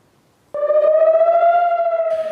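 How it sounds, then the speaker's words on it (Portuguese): An air raid warning siren in the streets of Tel Aviv starts abruptly after a brief silence and holds a loud, steady, slightly rising wail. "as sirenes de alerta ecoam pelas ruas de Tel Aviv"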